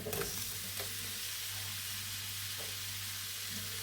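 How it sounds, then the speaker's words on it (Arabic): Shrimp hit a pan of frying onions for paella, a close, bright continuous sizzle with a few scraping stirs near the start. "غنلوح الكروفيط"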